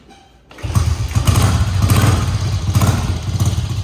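A cold 1966 Triumph Mountain Cub motorcycle engine fires up after a brief quiet moment and settles into a loud, close, rapid-thudding single-cylinder run with mechanical clatter.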